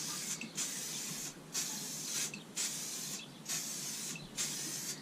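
Bursts of spray paint hiss rhythmically onto a Land Rover Defender 300Tdi chassis, six short strokes with brief gaps between them, close and fairly quiet.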